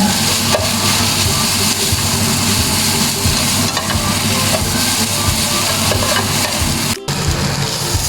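Mung bean sprouts hit a hot pan for lumpiang togue, giving a loud, steady sizzle and hiss close by that continues throughout, with a brief dip near the end.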